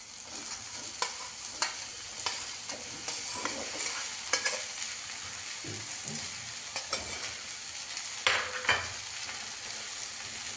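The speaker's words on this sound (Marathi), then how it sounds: "आता टाकणार त्यात भेंडी।" Okra for a village-style Maharashtrian bhaji goes into a hot pan with peanut-chili-garlic paste and is stirred, bringing continuous frying sizzle with repeated spatula scrapes and clicks close by.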